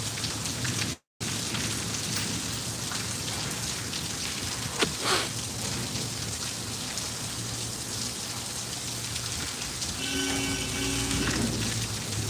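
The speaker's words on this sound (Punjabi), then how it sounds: "ਸਾਡਾ ਬਠਿੰਡਾ ਜ਼ਿਲ੍ਹੇ ਦੇ ਵਿੱਚ ਦਾ ਫੁੱਲ ਮੀਂਹ ਹੈਗਾ" Heavy rain pours steadily onto surfaces in Bathinda district, a dense continuous hiss close by with a brief dropout early on.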